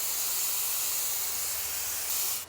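An Earlex 6700 paint sprayer blows a steady, loud broadband hiss of atomized paint, unbroken for the whole stretch and cutting off abruptly at the very end.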